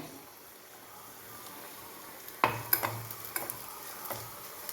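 Quiet hissing of hot oil, then a run of sharp pops and crackles as mustard seeds splutter, starting suddenly and continuing irregularly.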